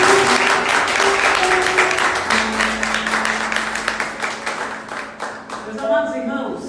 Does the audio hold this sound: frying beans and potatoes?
no